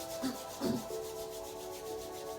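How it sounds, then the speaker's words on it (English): Palms rubbed together to create warmth during a Pilates session, two brief soft friction strokes followed by quiet, faint and close with no talk. "And then just rubbing the palms together to create some warmth."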